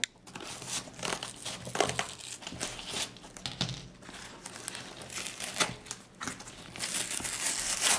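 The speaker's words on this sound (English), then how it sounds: "let's just maybe cut open the whole box just to be on the safe side" A small but very sturdy cardboard shipping box holding potted African violets is cut and torn open, giving a steady run of close, crinkly scraping and ripping noises with irregular louder bursts.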